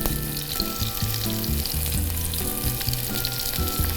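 Dredged chicken pieces sizzle and crackle in hot oil in a skillet, a dense, steady frying hiss with popping throughout, loud and close, no talk.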